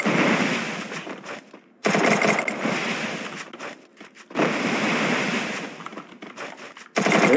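Bursts of rapid gunfire crackle from a video game, several long volleys separated by brief lulls, loud and dense.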